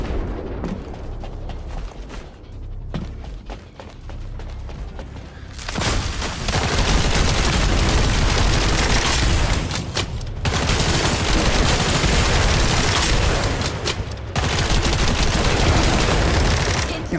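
Sustained video game gunfire from The First Descendant, loud and dense, rattling almost continuously after a quieter opening with scattered shots and short breaks.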